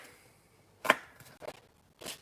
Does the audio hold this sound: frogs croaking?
no